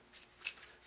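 Tarot cards are shuffled softly at close range, with faint riffling bursts of paper against paper over a quiet background.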